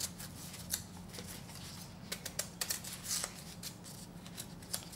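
A knife cuts through a raw beet, producing soft, crisp slicing clicks that repeat irregularly over a quiet background.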